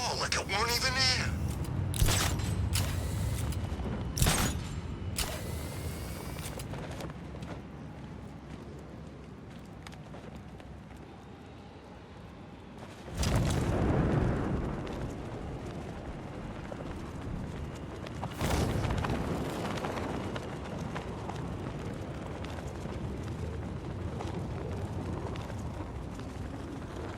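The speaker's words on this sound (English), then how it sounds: "So the Bat drives straight through a wall like it weren't even there." In Batman: Arkham Knight, the Batmobile tank smashes through a wall with heavy crunching impacts, rumbling machinery and scattered bursts of debris. The loudest hits come in surges, and talk runs beneath them.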